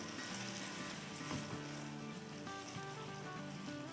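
Chicken pieces fry in a pan with ginger-garlic paste and salt, giving a steady, close crackling sizzle with scattered pops throughout.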